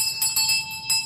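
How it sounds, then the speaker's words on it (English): A room bell rings in a quiet house, sounding as a few quick bright metallic strikes, close and clear, with no voices over it. "The bell of the room you was working in, sir."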